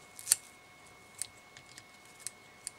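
Scissors snip thread while a black and silver seatrout muddler fly is tied, one sharp close cut followed by a few faint small clicks in an otherwise quiet room.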